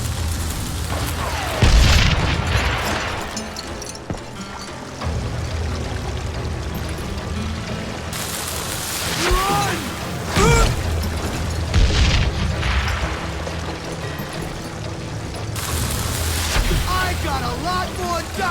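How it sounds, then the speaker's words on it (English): Dynamite explodes in Call of Juarez Gunslinger, with several heavy booming blasts spread across a busy stretch of western gunfight noise, some rumbling low and others sharp and loud. "Who said you could throw dynamite?"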